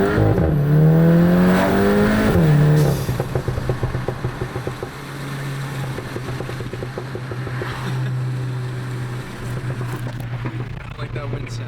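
Car fitted with an iE Stage 1 Pro Tune revving loudly, its exhaust crackling with a rapid burst of pops and bangs as the engine note falls, close and dominant, with wind noise and brief talking mixed in.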